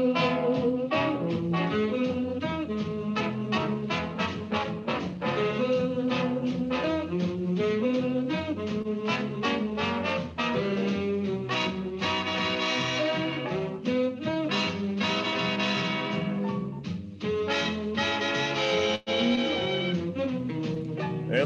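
Jazz big band playing, with brass and reeds trading lively swinging phrases over a steady beat, full and continuous throughout.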